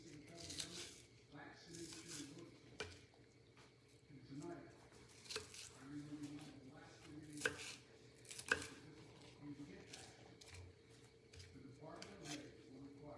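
A knife chops small onions by hand for homemade hamburgers, irregular soft thuds and squishy cuts on a board, with a person talking throughout.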